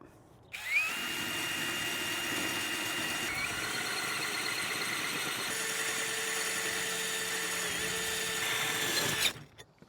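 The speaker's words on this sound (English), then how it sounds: "I'm just using a tile cutting hole piece. That's on a low speed" A power drill with a wetted tile hole cutter grinds through bathroom floor tile steadily at a low, even speed for about nine seconds, starting and stopping abruptly, loud and close.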